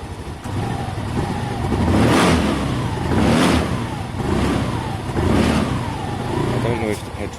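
Kawasaki ER5 motorcycle engine running, a close, loud mid-pitched engine note that swells in a few repeated rev surges over steady idle, with a person talking over it.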